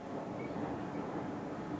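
Snowdon Mountain Railway train rumbles along the mountain track, a steady low mechanical drone with even, unbroken noise and no voices.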